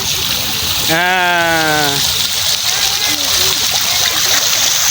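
Continuous loud splashing of a waterfall in a park fills the scene, with a voice briefly calling out over the rushing water.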